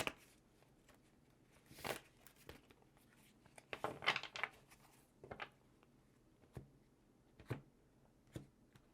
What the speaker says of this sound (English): let's just get one more good shuffle here